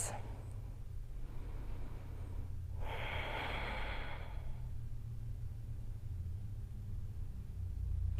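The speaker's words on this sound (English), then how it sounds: "3 big breaths" A single deep breath during a calm yoga session, a soft, close inhale and exhale standing out briefly against a low steady background hum, with no talking.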